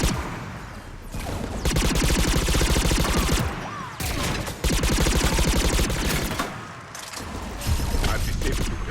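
Sustained automatic gunfire from a gun turret in a Mass Effect 3 firefight, loud rapid bursts running almost nonstop across the clip with brief pauses, mixed with game effects.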